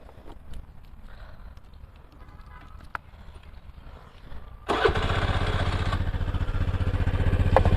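A TVS Ntorq scooter's exhaust note starts with a quiet idle burble, then the throttle opens into a loud, steady, raspy drone that holds to the end.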